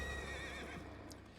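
A horse in Elder Scrolls Online gives a single clear whinny that quavers and fades over about a second, close and alone with no talking.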